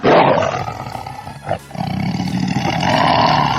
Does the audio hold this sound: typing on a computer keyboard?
no